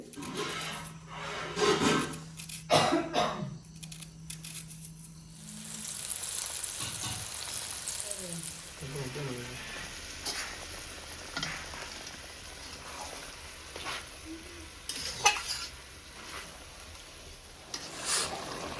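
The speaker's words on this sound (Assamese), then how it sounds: "তো এতিয়া আমাক খৈত মানে মাংস বনোৱা হৈ আছে।" Chicken meat frying in a pot for Assamese-style chicken biryani, a continuous sizzle with intermittent scraping and stirring strokes, close and fairly loud, with no talking.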